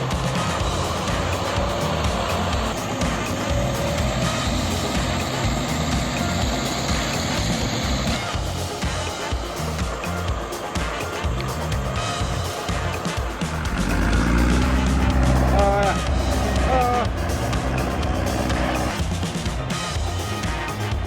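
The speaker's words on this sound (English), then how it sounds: "The engine roared as it tried to escape." An MF283 tractor with a plow, stuck in deep mud in a rain-soaked field, roars steadily and loud, its engine note swelling heavier and lower partway through as the wheels churn.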